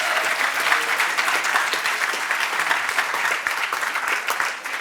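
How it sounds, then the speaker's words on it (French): An audience at a high-school debate competition awards ceremony applauds the jury, steady sustained clapping at moderate volume throughout, with no voices over it. "Je pense qu'on peut applaudir nos jurés aussi."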